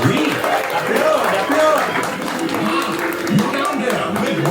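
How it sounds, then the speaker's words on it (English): An audience claps for the singing birds in Disneyland's Enchanted Tiki Room, with a scattered round of applause mixed with talk and chuckles over the show's background music. "Let's give the little birdies a great big hand."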